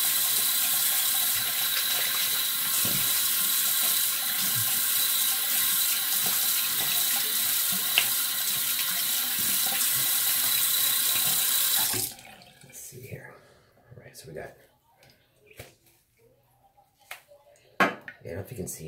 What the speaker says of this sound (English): Alright, I'm gonna rinse this off